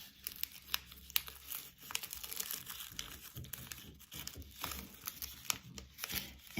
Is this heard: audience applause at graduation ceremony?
no